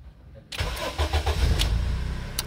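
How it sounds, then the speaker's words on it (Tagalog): A Honda Accord that had trouble starting cranks briefly and catches, settling into a steady mid-pitched idle, close by and free of talk. "So try nating paandarin kung aandar na siya."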